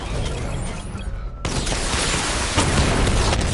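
A dense, roaring missile barrage from the Batmobile in Batman Arkham Knight bursts in loudly after a mechanical whirring buildup, a sustained wall of rapid launches and blasts with a crackling, clattering edge.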